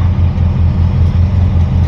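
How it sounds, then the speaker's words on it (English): A dump truck's engine rumbles loud and close as it is put back in gear and creeps onto a weighing scale, a heavy, steady low drone with no talk over it. "Now we will put it back in gear. See what that dump truck weighs on its front axle."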